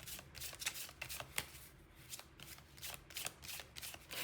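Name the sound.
shuffling tarot cards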